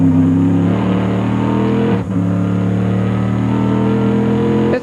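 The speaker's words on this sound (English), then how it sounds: "being on board Ron Fellows' Corvette. 7-liter V8 power" Onboard a Corvette GTS race car with a 7-liter V8 at the 2003 Petit Le Mans, a loud sustained engine roar with a brief dip like a gear change midway, no voices.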